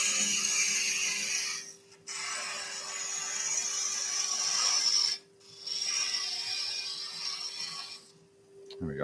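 A wood-turned hummingbird is sanded on a spinning lathe. A continuous abrasive rushing runs over a steady motor hum and cuts out in two brief pauses before starting again.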